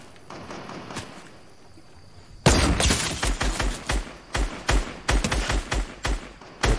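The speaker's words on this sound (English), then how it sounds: "Who is shooting at me?" Video game gunfire starts abruptly after a quiet stretch of ambience, then carries on as loud, close bursts of shots that come in uneven clusters to the end.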